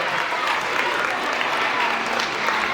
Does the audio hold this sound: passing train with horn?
no